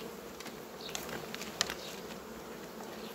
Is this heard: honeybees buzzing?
yes